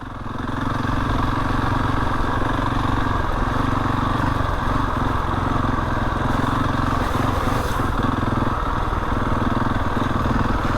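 A Husqvarna 701 motorcycle riding off-road along a wet winter green lane, its engine a loud, steady, close droning rumble that runs unbroken throughout with no talking.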